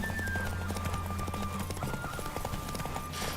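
Rhythmic hoofbeats of a horse galloping in The Witcher 3 video game, steady and fairly loud over a constant game soundtrack with tonal layers.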